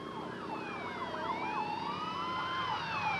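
An ambulance siren wailing on the road, its rising and falling tones sweeping continuously, with more than one siren tone overlapping, moderately loud over a low traffic rumble.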